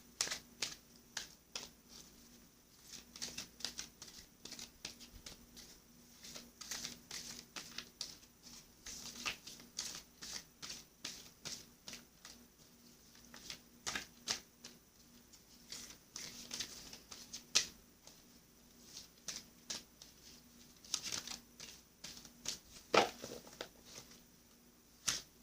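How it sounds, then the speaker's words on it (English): Cards from a Sacred Rebels Oracle deck shuffled by hand, a steady run of soft, rapid riffling and patting taps that continues throughout at close range, with no talking. "Now I'm going to shuffle for you from the Sacred Rebels Oracle deck."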